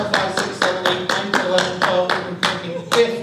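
A single person claps about a dozen steady, evenly spaced hand claps, close and crisp, at a brisk rhythm of roughly three per second with no other sounds.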